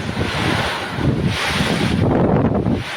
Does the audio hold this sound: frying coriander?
no